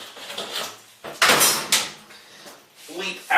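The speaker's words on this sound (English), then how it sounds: "what you want to do is to try to lift out the glass doors" Glass bathtub shower doors are lifted out of their track during a bathroom demolition, giving short scraping slides and rattling knocks of glass in a metal frame, close up, with someone talking.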